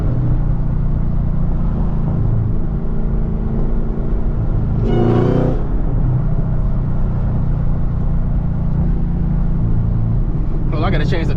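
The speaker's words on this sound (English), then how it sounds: "that downshifting." Camaro ZL1 with a six-speed manual gives a loud, steady engine rumble from inside the cabin, with a sharp rev burst at about five seconds and another rising near the end, while someone talks over it.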